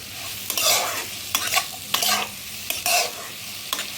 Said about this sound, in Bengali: এখন এটাকে আমি ভালো করে এর সঙ্গে মিশিয়ে নিচ্ছি